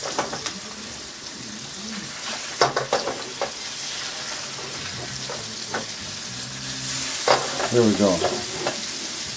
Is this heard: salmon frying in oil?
yes